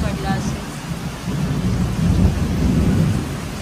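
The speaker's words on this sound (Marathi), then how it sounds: "भरपूर सारा पाऊस सोबत विजांचा पण गडगडाट बघू शकता." Heavy rain pours down with rolling thunder on a Diwali evening during Lakshmi Puja, a steady dense roar with a deep rumble swelling beneath it. No voices are heard.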